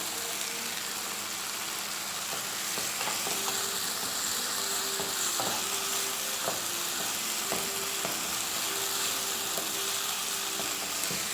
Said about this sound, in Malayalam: തക്കാളി ഒന്ന് ഹാഫ് കുക്ക് ആവുന്ന വരെ മാത്രം ഇങ്ങനെ വഴറ്റി കൊടുത്താൽ മതി